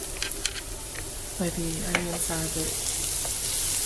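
Onions frying in a pan while lunch is cooked, a steady broadband sizzle running throughout at moderate level, with a person speaking briefly over it midway.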